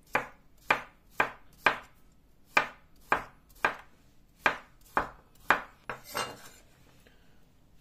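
A knife chops a pre-washed cucumber, halved lengthwise, on a board for a Shopska salad, with about twelve crisp, evenly spaced cuts, close and clear, quickening slightly toward the end.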